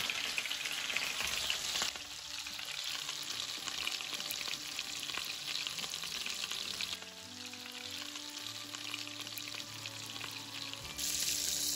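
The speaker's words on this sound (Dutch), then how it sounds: "En dan gaan we een stuk ossehaas 4 minuten aan alle kanten even aanbraden." Beef tenderloin searing on all sides in butter with a splash of olive oil in a pan, a steady close sizzle and crackle with shifts in intensity as the meat is moved, no talking.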